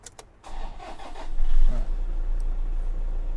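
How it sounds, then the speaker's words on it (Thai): A 2013 Toyota Vigo Champ 2.5 diesel pickup engine cranks briefly, catches and settles into a steady low diesel idle, close by with no voices. "สตาร์ทเครื่องยนต์ให้ฟังเสียงเครื่องด้วยนะครับ"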